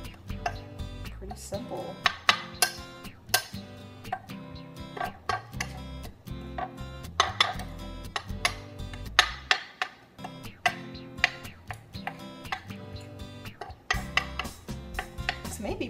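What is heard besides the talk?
spoon mixing seasoned flour in a bowl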